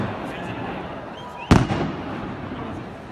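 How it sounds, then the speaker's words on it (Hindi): A single sharp firework bang cracks out over a steady crowd murmur and hiss at an opening cricket match at the International Cricket Stadium in Dehradun, its echo fading quickly. "जब भी पटाखा बजता है आकाश की ऊंचाइयों में एक गूंजती हुई आवाज आती है"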